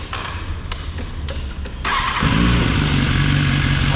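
A warm motorcycle with a fault that makes it stumble and hesitate is cranked in a workshop. It fires at about two seconds, then settles into a loud, steady idle close to the microphone, with no talk.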